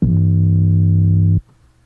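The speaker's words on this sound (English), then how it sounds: "when I mix my 808s, I just distort them" A single deep, sustained distorted 808 bass note with a gritty, saturated tone holds steady for over a second, then cuts off abruptly.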